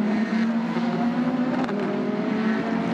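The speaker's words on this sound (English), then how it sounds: "the car on the move at the moment, it is the leading Aston Martin" The leading Aston Martin race car during the 2017 WEC 6 Hours of Nürburgring roars with a loud, sustained engine note that holds steady for a few seconds with no talk.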